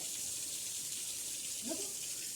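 Water pumped up by a tractor and poured over an embankment in a rural Maharashtra village makes a steady, faint rushing splash, continuous throughout with a low murmur of distant voices.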